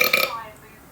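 A man lets out a short, loud burp from trapped wind, a rough burst at the start that fades quickly into quiet room sound.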